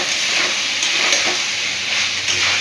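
Chicken fries in hot oil for chilli chicken, making a loud, dense, continuous sizzle that holds steady and close throughout.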